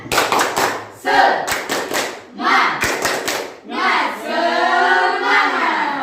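A classroom of standing students performs a rhythmic spirit-clap icebreaker: tight bursts of group claps in a set pattern, close and loud, ending in a sustained group shout.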